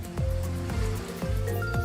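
Surf washes in repeatedly along the beach of a quiet coastal fishing village, a rhythmic series of low, rumbling breakers about every half second to second, with a watery hiss between them and no talking.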